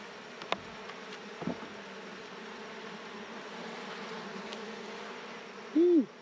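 A steady, even drone of honey bees massed on a hive frame hums throughout, buzzing close by, with a few brief knocks and a louder tonal swell near the end.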